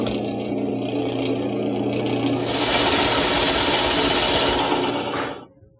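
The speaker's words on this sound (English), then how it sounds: "hold a piece of wood against the post in this direction so it won't move and drill a hole" Power drill bores a 3-inch-deep hole into a wooden bed post, a steady whining motor drone that rises in pitch as the bit bites in, then stops abruptly.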